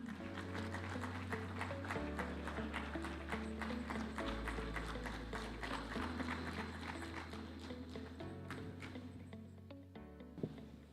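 An audience at the opening ceremony of Kenya's 2023 Devolution Conference applauds the President of Kenya, sustained clapping running alongside steady band music for about eleven seconds.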